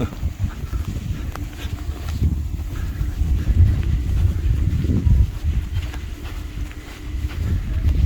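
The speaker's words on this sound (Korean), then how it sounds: "이제 바람 좀 부네" Wind gusting across an open golf course on Jeju, a constant low rumble of buffeting against the microphone that swells and eases, loud and close with no clear talk.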